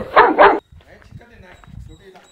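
Small dog gives two quick, sharp barks close by, followed by quiet background murmuring and shuffling.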